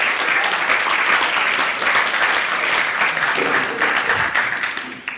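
Steady, dense applause from a large crowd fills the whole stretch, tapering off slightly at the very end.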